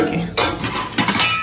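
At an unlimited buffet, a metal spoon clinks against dishes in a few quick bright taps and scrapes over soft background room noise.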